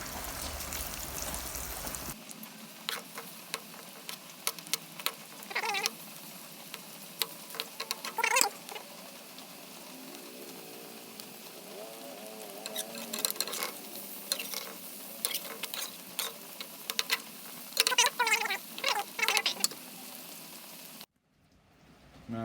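Fish frying in a pan of oil over low-to-medium heat, a steady sizzle with scattered crackles and pops that carries on for about twenty seconds before cutting off.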